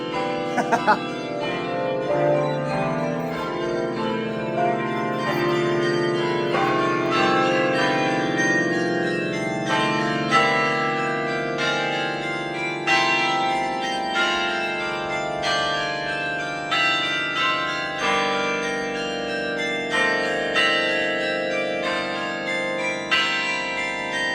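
Chimes ring out inside the Chimes Tower at Longwood Gardens, a rich, layered peal of struck bell tones with repeated fresh strikes over a lingering hum, steady and loud throughout.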